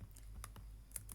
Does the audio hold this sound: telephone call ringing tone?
no